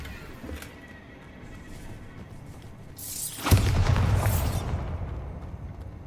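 Bombarda spell blast in Hogwarts Legacy: a quiet ambient bed, then a sudden loud booming explosion that rumbles and crackles for a couple of seconds before fading.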